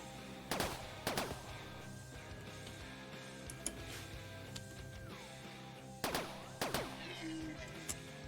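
Faint pistol gunshots from Rimworld, a colony game, come in two quick pairs of sharp cracks, one pair near the start and one about six seconds in, over a quiet humming game backdrop.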